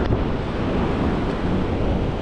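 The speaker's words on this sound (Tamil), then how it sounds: "எங்கிட்ட ஒரு குட்டி வாட்டர் ஃபால்ஸ் தான் இருக்குப்பா. வாவ், எவ்வளோ கலங்களாக ஓடி வருது பாருங்க." Water rushes steadily from a small waterfall carrying mud and stones in Zambia, a loud, continuous broadband roar heard close up with no talking.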